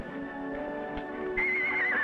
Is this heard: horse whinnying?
yes